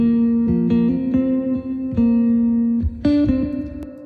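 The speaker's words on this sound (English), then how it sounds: "my favorite spring reverb from Softube" Guitar played through a Softube spring reverb plugin, a series of plucked notes and short chord stabs in a loose rhythm, each ringing out with a wet, springy tail; close, clear and alone, no voices.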